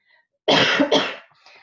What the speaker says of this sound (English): Inopportune time to have a cough, sorry about that